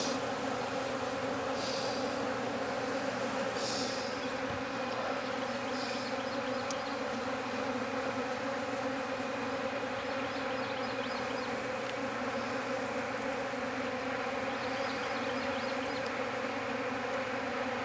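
A dense, continuous buzzing of many honeybees swarming close by around a hive, steady and loud throughout, with no voices.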